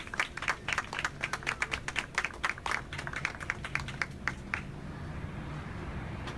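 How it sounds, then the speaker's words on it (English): An outdoor audience at a poetry reading in a park applauds with scattered, moderately distant clapping that thins out and fades after about four and a half seconds. "Let's give them a really warm round of applause."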